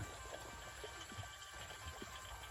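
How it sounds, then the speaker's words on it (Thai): Water flows down a channel at a stream where handmade fish traps are set, a faint, steady rushing wash that runs continuously without breaks. "น้ำไหลลงมานี่ครับ"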